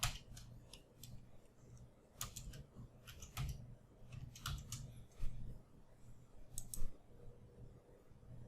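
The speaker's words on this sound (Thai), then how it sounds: "กด type ได้ตัวหนังสืออะไรก็พิมพ์เลย" Quiet, irregular key clicks from someone typing text on a computer keyboard, in short bursts with brief pauses and no talk.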